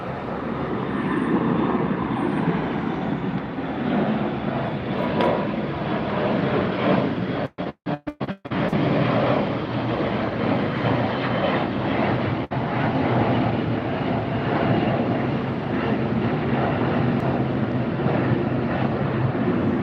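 A jumbo cargo airplane departing Los Angeles International Airport produces a sustained, loud, broadband engine roar with wind buffeting, heard from nearby and unbroken apart from a short dropout.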